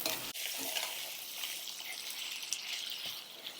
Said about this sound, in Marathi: कांदा चांगला परतून घ्यायचा आपल्याला,